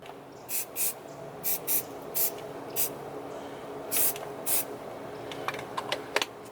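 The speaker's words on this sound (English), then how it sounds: "Now I'm gonna hit it with a little bit of clear, so it does, or a little bit of primer, so it doesn't rust." Short bursts of primer spraying from an aerosol can onto bolts to keep them from rusting, about nine quick hissing puffs in an uneven rhythm, close and moderately loud, followed by a few faint clicks.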